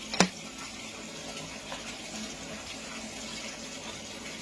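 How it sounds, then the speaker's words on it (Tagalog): Water gushes steadily from a free public tap as water is fetched, a constant faint rushing flow with a brief clink near the start and no talking. "Mag-igib ka ng tubig."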